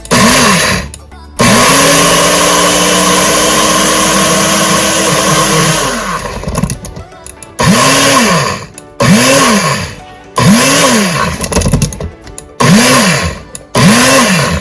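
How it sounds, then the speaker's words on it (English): A loud blender grinding oatmeal whirs close up in a long run, then in several short bursts with pitch swoops as the motor revs and slows. "this is the blender I use"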